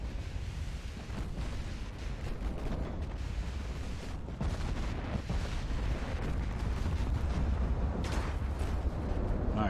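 Heavy naval gunfire and shell hits from 9-inch guns in the Ultimate Admiral: Dreadnoughts video game, with booming blasts and rumbling explosions in dense, overlapping bursts over a constant low roar of battle.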